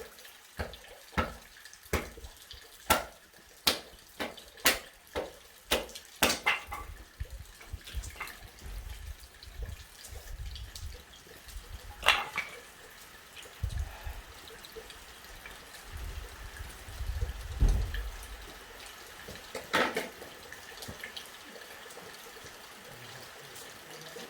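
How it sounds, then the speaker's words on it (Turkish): A water tap running while someone washes their hands at a village home in the snow, with sharp splashes and intermittent drips against steady faint flow, nearby. "Ben bir elimi yıkayayım, geleyim."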